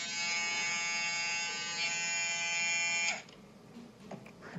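A Kemei 1911 electric hair clipper or shaver motor, brushless, hums with a loud steady high-pitched buzz for about three seconds, then cuts out, leaving faint handling noise.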